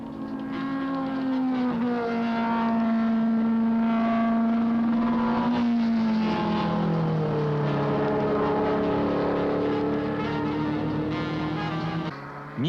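The 21 Nissan R38 race car races around a track with a banked corner, its engine a loud, close, sustained howl that rises and falls in pitch through shifts as it passes.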